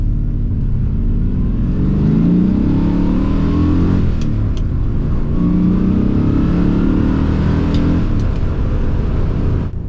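A DeTomaso Mangusta with a Ford Cleveland engine accelerates hard, its loud, deep engine note running continuously and close, with the revs climbing and swelling twice across the stretch.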